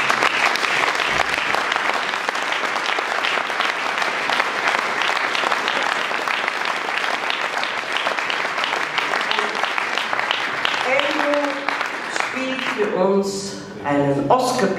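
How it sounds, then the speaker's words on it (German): Sustained, dense applause from an audience at the Vienna jazz festival in 2016 for a 15-year-old performer, tapering off near the end as a voice begins speaking. "Applaus für Andrew."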